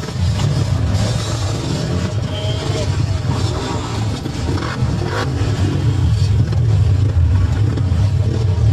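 Loud, continuous enduro motorcycle engine roar with droning low rumble, rising and falling slightly as bikes rev nearby during an enduro challenge; speech seems mixed in.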